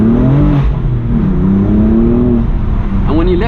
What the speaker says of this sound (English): this is a normal sports exhaust